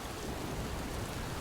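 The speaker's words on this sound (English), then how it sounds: "Rain poured down on the castle walls, and thunder roared in the distance" Heavy rain pours down in a dense, even hiss around castle walls during a thunderstorm, with a low rumbling undertone of distant thunder, steady and uninterrupted.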